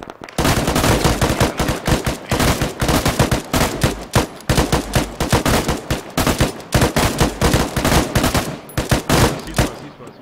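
Rapid bursts of automatic and single-shot gunfire in a military campaign video game crack loud and close, firing in dense volleys with brief gaps through the whole stretch.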